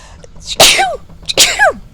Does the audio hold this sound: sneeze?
yes